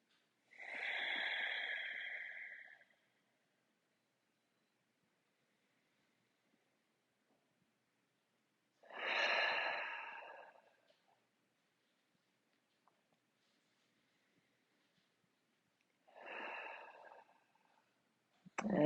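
Three slow, deep breaths during a yoga flow, each a long airy exhale of a few seconds, close and soft, separated by long stretches of near silence.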